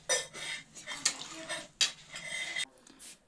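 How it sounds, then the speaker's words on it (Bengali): A spoon stirs rice and double its measure of water in a metal pot for pulao, making clattering scrapes and clinks in uneven bursts, close and moderately loud, with no talk. "তো এরপর এটিকে ভালো করে একবার মিশিয়ে নিচ্ছি।"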